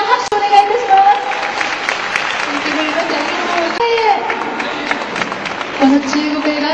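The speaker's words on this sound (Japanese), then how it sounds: "盛大な拍手お願いいたします。" An audience applauds at a film festival stage event in Tokyo, a moderate, sustained patter of clapping under a speaker's amplified voice.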